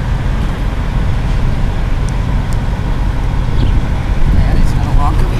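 Diesel trucks pass on the road behind a truck stop in Grosse Tete, Louisiana, a continuous rumbling roar of heavy traffic that swells slightly toward the end, with a voice talking over it.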